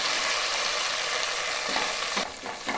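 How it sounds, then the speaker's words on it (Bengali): Spices for a mutton curry fry steadily in hot oil, giving a dense, continuous sizzle that stays loud and close throughout, with a slight shift in texture near the end as they are stirred. "আমি এইভাবে সব মশলাগুলোকে ভালো করে ভেজে নেব"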